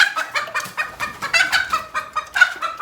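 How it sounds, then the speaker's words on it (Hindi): Backyard hens cluck in quick, bright bursts, a steady close run of calls with no talking. "फाइनली जी अंदर आई हैं हमारे पास मुर्गियाँ"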